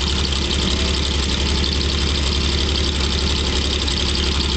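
A 1949 Chevy dump truck engine idles loud and close with a steady low rumble throughout, no clear gear change standing out.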